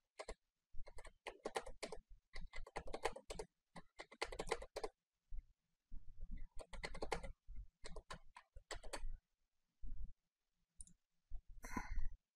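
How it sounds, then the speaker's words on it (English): A Wi-Fi password being typed on a computer keyboard, with irregular bursts of crisp, close key clicks separated by short pauses, and no talking. "I'm going to input my Wi-Fi password."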